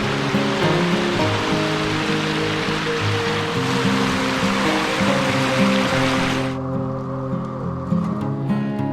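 A clear waterfall stream at a riverside campsite in Muak Lek, Saraburi, rushes loud and steady, a dense continuous wash of water close by that drops off sharply near the end.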